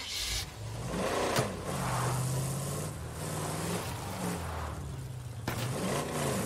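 Car engine revving steadily in State of Decay 2 as its wheels spin and slip, a continuous droning hum with slight pitch swings and a sharp knock partway through.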